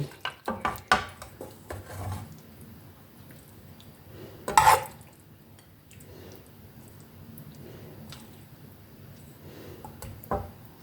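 A utensil scrapes and clanks against a pan while stir-fried pork with fresh ginger is scooped onto a plate, a cluster of knocks at first, one louder clatter midway, then soft scraping, close by.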